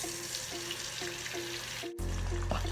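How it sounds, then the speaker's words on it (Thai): An egg stir-fried in a pan gives a steady, close hiss of sizzling that runs without pause. Partway through, the hiss abruptly shifts in tone and grows denser. No one speaks. "เดี๋ยวรอผัดไข่ให้สุกนะคะ"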